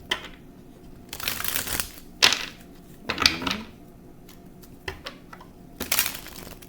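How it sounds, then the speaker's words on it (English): Tarot cards are shuffled by hand in short, irregular riffling bursts with quiet pauses between them, close and fairly soft, with no talking. "I'm going to shuffle."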